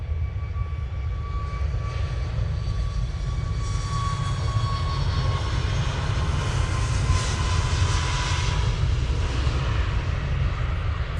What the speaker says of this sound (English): Got a Ryanair 737 MAX now departing.